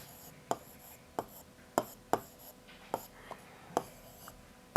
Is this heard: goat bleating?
no